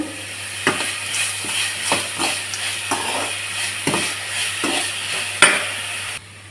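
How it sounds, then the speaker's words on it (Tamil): Tomatoes and onions sauté in a pan for a potato and pea white kurma, with a constant close sizzle and a steady series of spoon stirs and scrapes, ending abruptly. "அதில் நம்ம தக்காளி சேர்த்து வதக்கலாம்"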